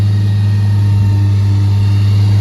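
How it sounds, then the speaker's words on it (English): A Ford bucket truck's engine runs at a raised idle with the PTO engaged, a loud, steady low drone with a constant hum and no change in pitch. "It's idled up, obviously, because the PTO's on."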